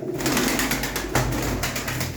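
Pigeons cooing at a live bird auction, a steady low throaty cooing from several birds close by, continuous and fairly loud with no voices over it.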